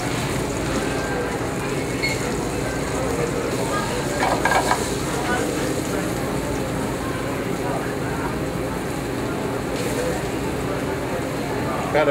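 Swedish meatballs sizzle steadily in a hot skillet, a continuous crackle with a few brief louder pops, while someone talks over it now and then.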